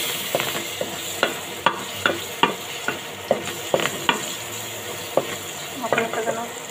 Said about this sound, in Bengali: একে একে সব মশলা দিয়ে দিব, রসুন বাটা, আদা বাটা